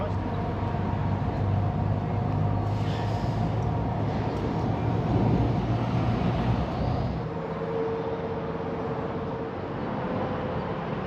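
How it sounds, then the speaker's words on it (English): A low, steady mechanical rumble from a heavy roller drones in the distance at a village sports ground in Baslow, Derbyshire, with outdoor wind noise and no clear voices. "they've got the heavy roller doing its job"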